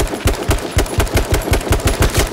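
Rapid automatic gunfire in the battle royale game H1Z1, about a dozen sharp, loud shots in quick succession, close and with nothing else heard.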